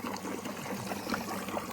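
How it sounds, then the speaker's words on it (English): Water from a jet wash pump sprays and splashes in a steady, continuous rush with no talking over it. "We've got water coming out that side now."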